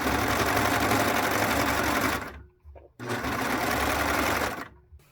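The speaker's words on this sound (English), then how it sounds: "I'm just going to go ahead and stitch the right sides of my sleeve together right here" A sewing machine stitches the right sides of a puffer vest sleeve together in two loud, steady runs, the first about two seconds and the second about a second and a half, split by a short pause.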